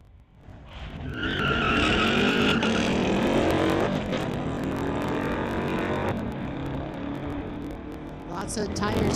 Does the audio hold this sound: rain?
no